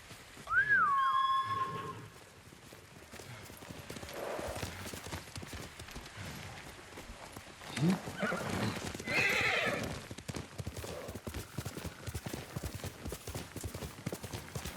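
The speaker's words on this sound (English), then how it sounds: "Horse!" In the video game Ghost of Tsushima, a horse gives a loud whinny near the start, then its hooves clip-clop steadily at a gallop, with another neigh partway through.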